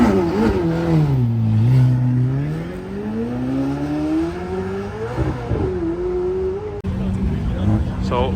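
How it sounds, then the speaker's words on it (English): McLaren Senna rolling out and accelerating, a deep engine drone whose pitch swoops down and climbs again as it pulls away, with people talking over it. "And the Senna is rolling out."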